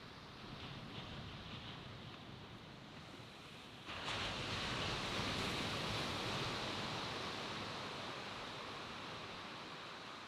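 Ocean surf breaks on a beach in steady, broad wash, swelling louder partway through and holding as a continuous roar, fairly close with no voices.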